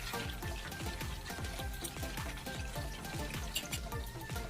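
Chicken drumsticks fry in a pan over high heat, giving a soft, continuous sizzle with a steady pattern of low bubbling pops, fairly quiet and with no talking.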